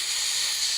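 A steady, loud hiss of steam escaping from a steam locomotive, broad and continuous for under a second with no other sound.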